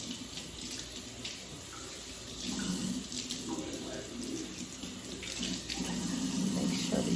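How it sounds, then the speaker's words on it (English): Warm water runs steadily from a sink tap while a raw hair closure is washed, a continuous close splashing stream that swells slightly louder partway through. "I'm gonna start with some warm water."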